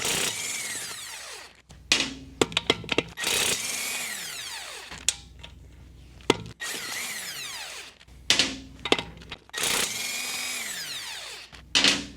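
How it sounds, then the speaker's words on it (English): A power tool buzzes in short bursts while taking lug nuts off a BMW Z4 wheel, each burst ramping up and winding down between metallic clanks and pauses, close and fairly loud. "Let's just go ahead and get the lug nuts off"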